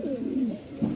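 Giribaz pigeons at a pigeon market in Mirpur-1, Dhaka, give soft, low cooing calls that rise and fall over about a second, close by and fairly quiet.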